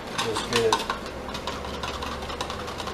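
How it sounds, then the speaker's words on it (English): Dissolved rennet being whisked in a small container, a quick light clinking and swishing of a whisk that is busiest early on and then settles into a steady soft stir over low background hum. "My rennet dissolved, so I'm going to whisk it"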